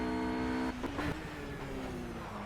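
A race car in Project Cars drones with a steady, tonal engine note, then a sudden break as it slides through a turn on full lock, after which the engine settles again.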